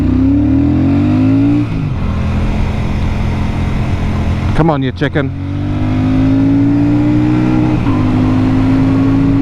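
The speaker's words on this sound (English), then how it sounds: "Definitely a lively motorcycle." Royal Enfield Meteor 650 motorcycle accelerating on a motorway, a loud, close engine drone rising steadily in pitch through the gears with brief dips at each shift, while a rider speaks briefly over it.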